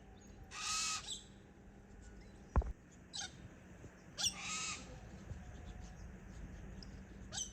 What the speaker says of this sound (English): Lots of birds come out of hollows when we walk along here.